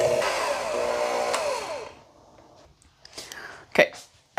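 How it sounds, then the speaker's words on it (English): Electric blender whirring through pumpkin pie filling made with evaporated milk, a loud steady motor drone for about two seconds that cuts off, followed by faint clatter and brief sounds. "Now we're going to give this a blend until everything's well incorporated."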